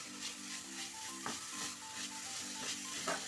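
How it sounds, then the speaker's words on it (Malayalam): Stirring a banana flower and green gram thoran in a pan over low flame, with a steady sizzle and repeated scraping strokes of the spoon, close and alone. "രണ്ടും കൂടെ ഒന്ന് മിക്സ് ചെയ്യുക ഈ ലോ ഫ്ലെയിമിൽ വെച്ചാൽ മതി"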